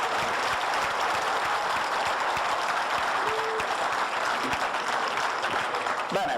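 A large audience claps steadily and continuously at an Italian regional cycling awards ceremony, a dense, loud wash of applause with scattered voices mixed in.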